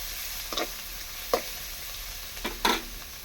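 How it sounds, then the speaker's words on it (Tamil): Spring onions and coriander sauté in a pan while making semiya upma, giving a continuous soft sizzle with a few distinct scraping stirs spaced apart, nearby and without talk. "வெங்காயத்தாள் கொஞ்சம், கொத்தமல்லி கொஞ்சம். இது வதங்கட்டும்."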